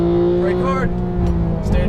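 Porsche 911 GT3 on a Las Vegas race track, its engine holding a steady, close droning note under continuous talk from someone in the car.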